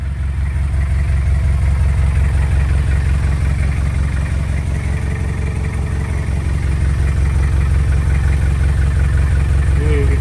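A 1990 Toyota Hilux Surf SR with a 3L diesel engine and aftermarket exhaust idling nearby, a loud, steady low rumble with an even clatter that holds throughout.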